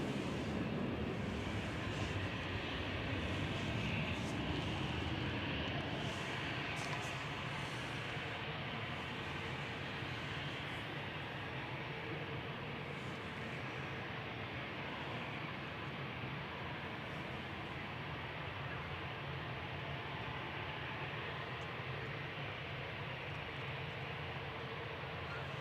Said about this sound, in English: Here comes the Qatar A350-1000 heading back to Doha.